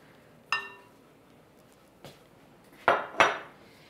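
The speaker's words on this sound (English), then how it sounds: "So I'm going to take my cool chocolate and just put it into a bigger bowl" Cool chocolate is moved into a bigger bowl, with a few distinct clinks and scrapes of a utensil against the bowls, four sharp knocks spaced apart in a quiet kitchen.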